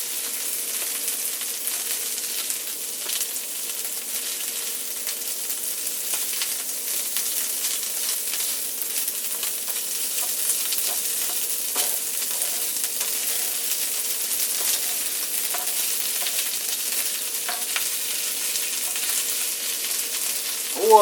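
Corned beef hash frying in a pan, a steady close sizzle throughout with a few faint scrapes and taps as it is turned, and a sharp clink at the very end.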